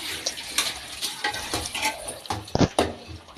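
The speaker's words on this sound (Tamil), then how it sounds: "இப்போது இந்த வெங்காயமும் பச்சை மிளகாவும் நல்லா வதங்கணும்" Onion and green chilli sauté in a pan, stirred with a ladle: a soft sizzle under uneven scraping strokes and a few louder metallic clatters near the end.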